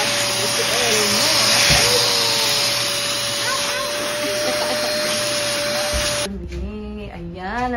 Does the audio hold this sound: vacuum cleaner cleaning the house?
yes